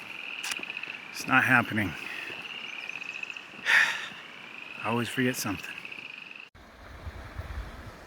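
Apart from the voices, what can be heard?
frogs croaking near a pond on the Wheeler Creek Trail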